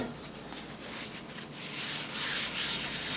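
Oil is wiped by hand across the inside of a cast iron roasting pot, producing a soft continuous rubbing sound that swells slightly toward the end.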